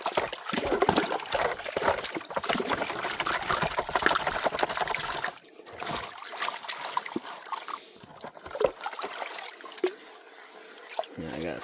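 Water swirls and sloshes in a gold pan in a shallow creek, a close, continuous churning wash with a person speaking at times.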